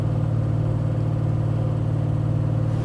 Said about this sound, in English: Driving down the road nice and straight, nice and smooth.